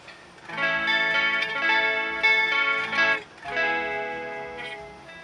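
Electric guitar strummed chords through a Korg AX5G chorus effect, shimmering and wavering, two sustained phrases ringing out alone with no talking.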